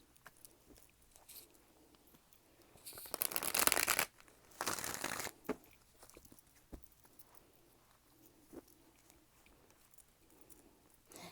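A tarot card deck shuffled by hand in a quiet room: two short, crisp riffling bursts a few seconds apart, separated by soft scattered card taps and rustles.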